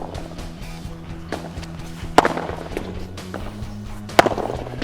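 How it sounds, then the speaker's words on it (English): A padel ball is volleyed off a Nox carbon padel racket with two sharp, crisp pops a couple of seconds apart, set against a low background of court noise and scuffling. "Let's do like 3-4 volleys."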